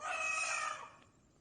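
A rooster crows loudly and close, one sustained call that trails off toward the end, with no voices over it.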